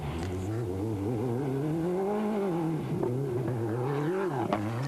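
Rally car from the 1997 Rally Tunisia, with Lartigue and co-driver Michel Perrin, racing across the desert, its engine droning loud and steady, pitch rising and falling as it revs through gear changes, with no talk.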